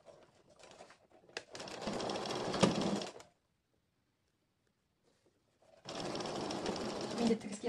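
Two bursts of a sewing machine running a dress seam, rapid and steady rattling stitches, separated by a few seconds of silence, fairly close.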